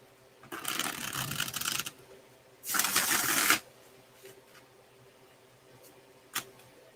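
Tarot deck being shuffled close by, two distinct bursts of rapid papery riffling about a second each, then a single sharp tap, in an otherwise quiet room.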